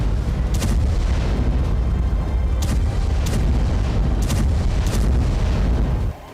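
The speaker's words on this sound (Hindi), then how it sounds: "बारूदी धमाकों से मिडिल ईस्ट की धरती दहल रही है।" Gunpowder explosions in Middle East warfare around Gaza, Israel and Lebanon roll as a loud, continuous heavy rumble, punctuated by several sharp booming bursts spaced a second or so apart.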